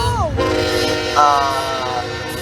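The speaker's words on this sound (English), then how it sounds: "in this next clip, you see a CSX Manifest Train" A CSX manifest freight train rumbles steadily close by, with a horn sounding in long tonal blasts over the continuous roar of rolling cars.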